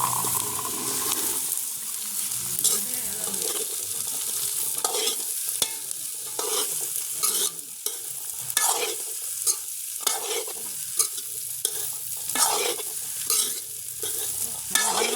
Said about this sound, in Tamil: கிண்டி பிரட்டிடுவோம்.